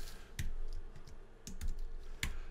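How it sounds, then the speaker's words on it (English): Arrow keys on an extended computer keyboard are pressed in a handful of quick, separate clicks, close and fairly quiet, with short pauses between taps. "I'm using the left and right arrow keys on an extended keyboard"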